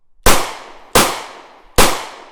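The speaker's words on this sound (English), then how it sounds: "My words were interrupted by a chorus of gunshots." Three sharp gunshots ring out at steady intervals, each a loud crack with a decaying echoing tail, with no other sound between them.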